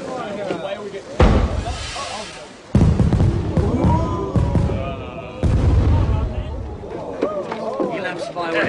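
Several heavy booms and crackling bursts go off in sequence, with people talking and shouting over them.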